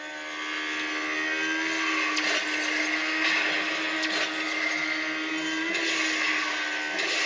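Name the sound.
racing car engine from the video game Asphalt Legends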